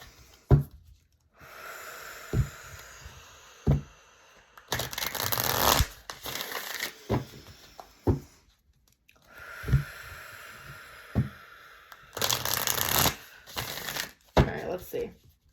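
Tarot cards are shuffled in repeated bursts of papery riffling and soft taps, close and fairly quiet, broken up by slow, audible deep breaths between rounds.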